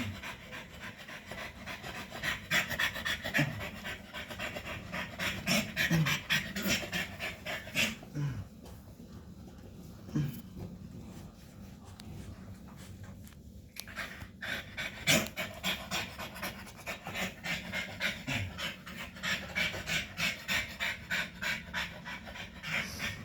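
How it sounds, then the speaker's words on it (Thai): A pregnant dog pants heavily from excitement in fast, rhythmic breaths that go on steadily for over twenty seconds, close by, with brief rubbing sounds. "ที่หอบ แรงๆ นี่ไม่ใช่อะไรนะครับ นะนางตื่นเต้น"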